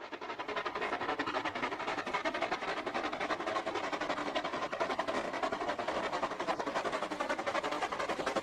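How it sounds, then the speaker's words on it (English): A steady, dense mechanical roar with a rapid rattling rhythm from a rotary snow plow train churning along close by, continuous and loud throughout. "This is a rotary snow plow."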